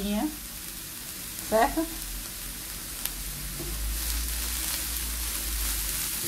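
Kale sautéing in a covered pan on low heat gives a steady, soft sizzle throughout, with a few short spoken words near the start.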